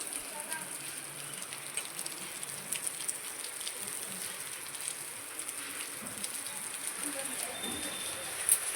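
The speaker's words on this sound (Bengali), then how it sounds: "এখানে বৃষ্টিটা দেখো," Steady rain falling outdoors during preparations for a puja, a constant close hiss of drops on surfaces that stays even throughout, with faint voices beneath.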